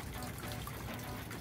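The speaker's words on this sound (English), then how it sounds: "in our dinghy here, we've got about 5 inches of water. I'm draining it right now" Ice-cold hail-melt water draining out of a flooded dinghy, a steady soft trickling and gurgling flow, continuous and close with no other sounds.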